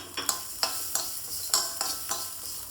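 Fenugreek seeds tossed into a pan of fried, browned onions for a fenugreek curry, giving a close series of sharp stirring scrapes and clatters about every half second over a low sizzle, with no voices.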